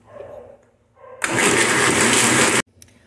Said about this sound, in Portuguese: vou colocar aqui no liquidificador pra bater com uma parte desse caldo